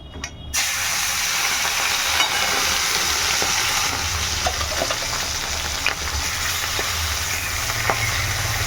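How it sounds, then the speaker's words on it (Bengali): Turmeric-coated fish fries in hot mustard oil, a loud continuous sizzle that begins abruptly after a quiet moment and holds steady with occasional small pops and crackles, no talking. "মাছটা আমি কিন্তু এখানে ভেজে নিচ্ছি একদম"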